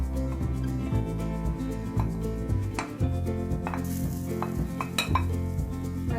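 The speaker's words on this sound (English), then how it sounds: "Now once the soup starts to simmer, so I'll just add the mushroom and onions" Mushrooms and onions drop into a simmering pot of cream of mushroom soup, with steady stirring, spoon scrapes and clinks against the pot, and a faint background bubbling that holds close and continuous throughout.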